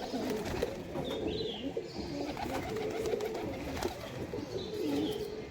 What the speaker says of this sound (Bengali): দেখুন বন্ধ লেজের পায়রা